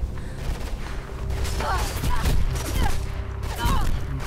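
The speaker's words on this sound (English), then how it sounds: "those three guys are shooting at me" Distant enemy gunfire from several shooters in the parkour game Mirror's Edge, a steady crackle of shots under a continuous game soundscape, with someone talking over parts of it.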